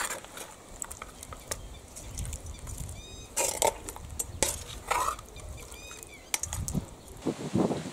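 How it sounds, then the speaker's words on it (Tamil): A spoon stirring quail gravy in a pan after coriander leaves are sprinkled in, with scraping strokes and clinks coming in irregular bursts, close by and moderately loud. "கொத்தமல்லி தழை தூவி நல்லா வந்து கிண்டி விட்டுக்கலாம்"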